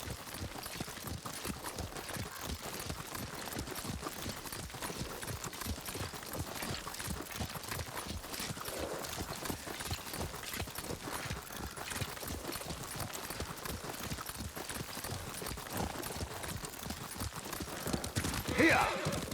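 Horse hooves clip-clop in a steady, quick rhythm as a rider travels on horseback in the video game Ghost of Tsushima, fairly soft and continuous, with faint ambience and a brief louder burst near the end.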